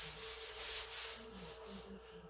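Sanding on the body of a 1978 Ford F100 truck, a steady raspy abrasive rubbing in repeated strokes, fairly close, with a faint electric hum underneath and no talking.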